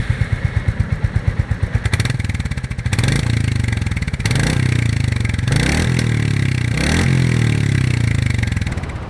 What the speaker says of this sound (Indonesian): kalau kalian penasaran sama suara dari knalpotnya, kita dengerin yuk